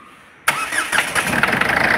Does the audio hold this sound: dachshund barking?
no